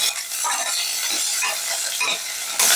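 Onion, green chilies, ginger, cloves and curry leaves sautéing in a pan, a steady bright sizzle with soft scraping stirs throughout, close and fairly loud, with no talk.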